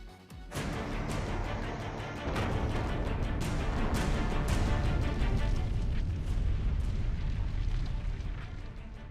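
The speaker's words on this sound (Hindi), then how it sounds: "एयरबेस पर कतार में लगे विमानों में विस्फोट हो रहा था" A dense, continuous roar of blasts and rumbling bursts as lined-up bomber aircraft explode at a Russian airbase under Ukrainian drone attack, sharp cracks layered over a heavy low rumble, distant and sustained.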